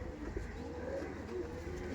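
A Punjabi pigeon, an older male, coos low and soft in a steady murmur, close and alone.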